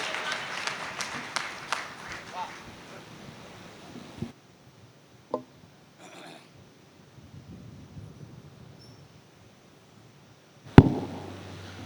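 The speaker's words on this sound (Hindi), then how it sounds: "एक बार सब मिलकर तालियां बजाएं" An audience applauds a poet at a Hindi poetry event with a burst of clapping that fades out after a few seconds, followed by near silence and a few isolated knocks.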